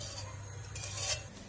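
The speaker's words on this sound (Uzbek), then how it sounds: "Endi buni to'q qaynaguncha albatta buni qo'zg'ab turaman" A spoon stirs a bubbling cooking mixture in a pot, giving soft scraping and sloshing strokes over a low simmering hiss, close and fairly quiet, with no voices.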